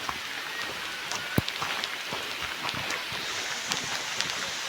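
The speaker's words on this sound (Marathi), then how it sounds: "पाऊस इलो मोठो." Heavy rain pours steadily on a trekking trail, a dense, even hiss of drops hitting the ground and surfaces, with no voices.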